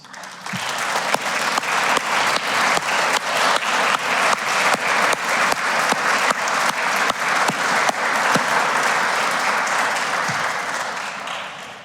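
At an alumni awards ceremony, an audience gives a sustained round of applause, dense and even with crisp individual claps, continuing strongly throughout before easing slightly at the end.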